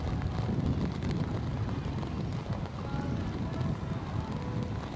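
Strong wind buffeting the microphone at an outdoor Oceania Sevens rugby semifinal in rainy weather, a continuous loud rumbling roar with no breaks, with no clear speech on top.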